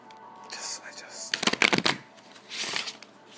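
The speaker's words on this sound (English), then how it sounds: "I'm going to draw just 2 more cards for clarification" Tarot cards are shuffled by hand in two quick bursts of riffling and slapping, a longer flurry and then a shorter one, close and crisp against a quiet room.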